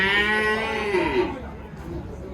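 Cattle lowing at a busy livestock bazaar in Kyzylorda, one long harmonic moo rising and falling up close amid the general din of the market.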